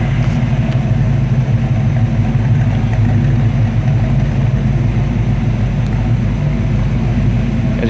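A 1933 Ford street rod runs with its engine idling, a loud, steady low rumble with a mild exhaust note that continues evenly throughout, no talking.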